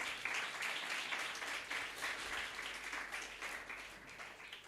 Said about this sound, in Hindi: भाई के लिए तालियां बजाओ ना।